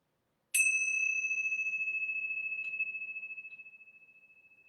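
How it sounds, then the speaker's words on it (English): A single strike of yoga bells rings out alone, a bright metallic ding with a long, slowly fading sustained tone that lingers for several seconds before dying away. "I'm going to ring these yoga bells one time."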